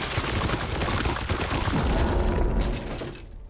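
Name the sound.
gunfire in the video game Warhammer 40,000: Chaos Gate - Daemonhunters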